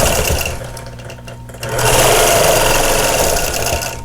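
A longarm quilting machine stitches a table runner with a loud, rapid mechanical whir that is close and continuous, dipping briefly as the machine slows before picking up speed again.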